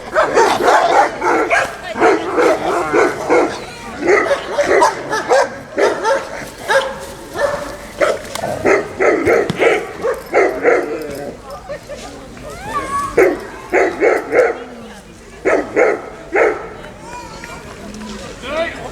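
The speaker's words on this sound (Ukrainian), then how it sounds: "Собаки показали хороші результати та чітко виконували команди" Several dogs at a dog club event bark in loud, repeated volleys with some yips and whines, heard outdoors while a voice speaks continuously over them.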